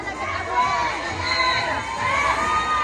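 A crowd at an award show for overseas Filipino workers in Singapore shouts and cheers, with high excited voices swelling into a dense, continuous roar that stays loud throughout.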